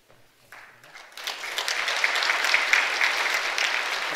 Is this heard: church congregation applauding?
yes